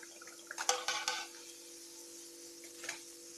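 Crisp fried banana fritters (pazhampori), browned in a pan, handled up close with a few brief crunchy clinks and rustles, then quiet with a faint low hum underneath.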